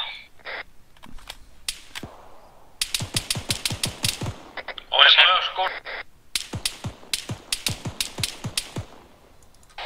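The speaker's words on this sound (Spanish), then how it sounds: "Oigo tiros a la derecha, no sé si son amigos o enemigos." Gunfire in the military shooter ArmA 3: rapid, sharp rifle bursts in several clusters over ten seconds, some near and loud, some more distant, with a brief louder crackling volley in the middle and a voice speaking now and then.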